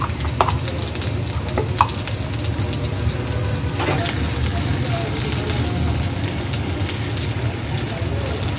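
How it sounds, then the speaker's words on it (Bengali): Fresh mixed leafy greens stir-fried in a hot pan give a loud, continuous sizzle and crackle close by, with occasional scrapes and clinks of the utensil against the pan. "এখন আমি গাছের শাক রান্না করব।"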